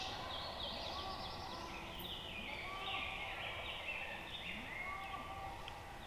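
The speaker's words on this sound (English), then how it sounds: "I got turkeys gobbling right down below" Distant wild turkeys gobble faintly in repeated bursts over a hissing outdoor background in western New York, with no close voices.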